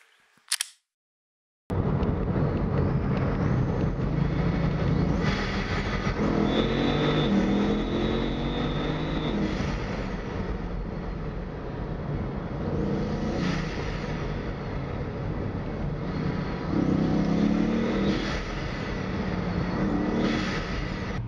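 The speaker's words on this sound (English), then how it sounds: "I can't believe I'm actually allowing Jason to drive in a Bugatti Veyron." A Bugatti Veyron GS drives through downtown Santa Cruz, its engine droning steadily from inside the cabin with occasional surges as it accelerates, loud and continuous with no talk.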